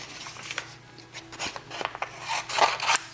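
A few short, quiet snips and rasping cuts as a sublimation transfer sheet is trimmed by hand for a mug press, irregular and close.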